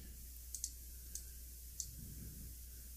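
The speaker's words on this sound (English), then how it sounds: "right click, copy." Computer mouse clicks while copying in Excel, four or five sharp, distinct clicks spaced unevenly across a quiet room with a steady low hum underneath and no speech.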